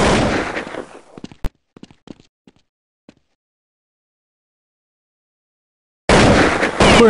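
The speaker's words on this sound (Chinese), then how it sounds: "突然近点有枪声，此刻爆弹身亡" Counter-Strike gunfire ends a burst of game noise in one sharp shot, followed by a few scattered pops and clicks that fade into silence before loud game sound returns.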